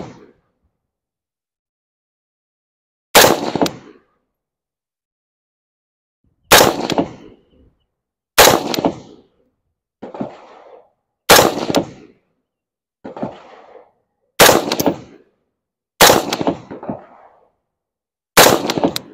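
Shots from a gun fired with iron sights ring out one at a time, about nine of them. Each crack is loud and close, evenly spaced every couple of seconds, with a short echoing tail and silence between.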